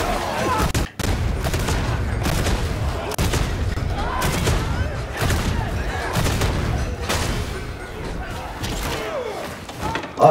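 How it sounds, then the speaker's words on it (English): Bolt gun fire in Warhammer 40,000: Darktide, with loud, continuous heavy gunshots and booming impacts in dense volleys close up, mixed with game combat noise and voices. "I love the bolt gun"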